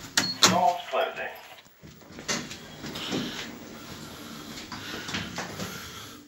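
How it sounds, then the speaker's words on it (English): Doors of a Stannah platform lift close at Forres train station, giving short sliding and clunking mechanical sounds. A voice talks over the motion. "Doors closing."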